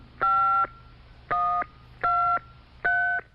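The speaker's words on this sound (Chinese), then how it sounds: "打公共电话给你" Four separate public telephone keypad tones beep at a steady pace, each a short clean electronic tone, with quiet pauses between them.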